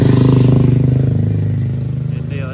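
A motorcycle engine runs close by at night, a loud, steady throbbing drone that eases slightly as it passes, with a voice speaking nearby.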